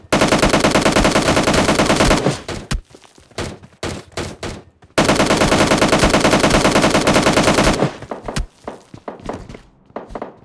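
Rapid machine-gun bursts in the mobile shooter PUBG Mobile Lite, two long sustained strings of fire broken by scattered single shots and short volleys, loud and close with no talk.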